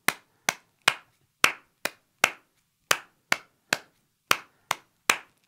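Sharp hand claps beat out a clave pattern in seven at a brisk tempo, about a dozen crisp, dry claps grouped unevenly and heard alone, close and clear.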